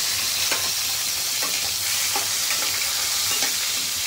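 Tomatoes dropped into a hot pan for gongura chutney sizzle and fry steadily, with soft scraping stir strokes at an irregular rhythm, close up and with no talk.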